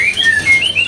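Cucak ijo birds at a bird market kiosk give a quick run of sweeping, whistled chirps, loud and close with no talking.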